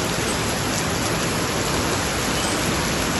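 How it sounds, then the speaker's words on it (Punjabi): Heavy rain pouring down on a Punjab farm, a dense unbroken roar of water filling the whole soundscape at constant loudness, with no voices. "ਫੁੱਲ ਮੀਂਹ ਪੈ ਰਿਹਾ"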